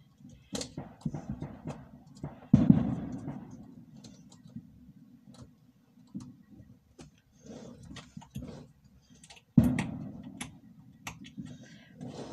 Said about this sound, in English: The neighborhood is going nuts with fireworks.